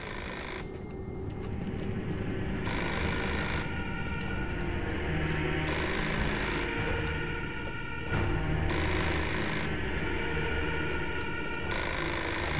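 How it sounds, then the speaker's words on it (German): A telephone in the video game Fahrenheit rings in repeated bursts of bright electronic trilling with short pauses between them. A steady background bed of game ambience runs beneath the rings. "Ich gehe nur schnell ans Telefon."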